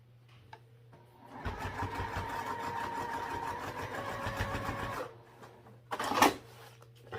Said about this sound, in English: baste these raw edges together